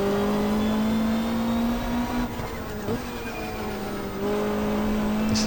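A 1995 Australian Super Touring car engine in the racing game GTR2 at the Gold Coast Indy circuit, a steady droning tone that dips briefly mid-clip as it shifts back to second gear, then settles again.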